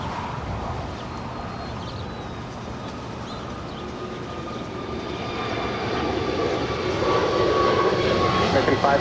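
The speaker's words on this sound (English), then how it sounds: "The Lufthansa A340-300 just touching down here on the south side." Lufthansa Airbus A340-300 jet touching down on the south side at LAX, a continuous broad engine roar swelling gradually louder toward the end, heard from a distance with no talk over it.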